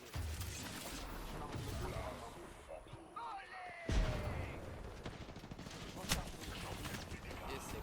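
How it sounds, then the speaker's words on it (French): Rapid gunfire aimed at the player in the video game Apex Legends, dense bursts of shots and impacts over a busy, continuous game soundscape. "Je me fais tirer dessus."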